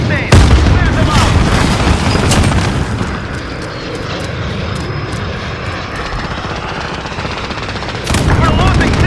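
Call of Duty Warzone gunfire crackles in rapid automatic bursts amid a roaring aircraft engine from a helicopter under attack, loud and dense throughout, with radio voice chatter mixed in.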